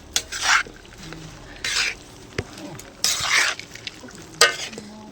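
Roasted peanuts being stirred into hot jaggery syrup in a pan for peanut chikki: loud bursts of gritty scraping and stirring, separated by quiet pauses, with a faint sizzle underneath.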